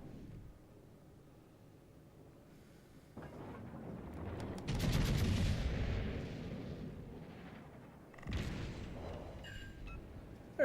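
Cannon shots in a naval video game: several deep, booming blasts that swell into heavy rumbling roars, then a second loud salvo and a final sharp hit, with no speech.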